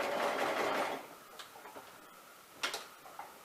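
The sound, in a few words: sewing machine sewing a quarter inch seam over pins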